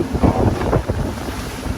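Strong wind roars steadily across a fishing boat at sea during a grouper fishing trip, a close, continuous buffeting gust with no talking.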